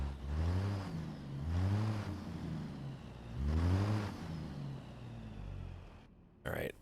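A heavy truck engine from a real-truck recording mod in a truck simulator game rises and falls through several revving pulls, a low droning roar that is moderately quiet and steady throughout.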